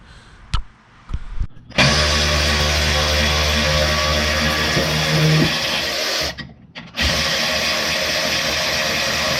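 An impact wrench removes 12mm and 17mm bolts on a Honda Civic Type R FK8 during a lowering-spring install, with short taps and then two long, loud, buzzing whirring runs close by, separated by a brief pause.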